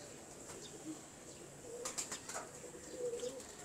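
Pigeons cooing softly with a few bursts of wing flapping close by, faint and low overall, the flapping clustering into a brief flurry midway.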